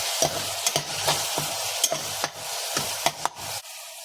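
Onions fry and brown in a pan while being stirred, a continuous sizzle broken by repeated scraping stir strokes at an irregular pace, then the sizzle fades at the end.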